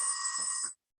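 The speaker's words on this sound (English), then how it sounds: "Just don't worry about that bell, it means it's over." A workout timer bell rings once to mark the end of an AMRAP round in a home arms and abs session, a bright, sustained metallic tone lasting under a second before cutting off to silence.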